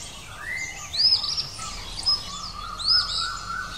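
Kingfisher calling, a series of sharp high whistling chirps in three or four bursts over a faint background hiss, fairly close and clear, with no talking.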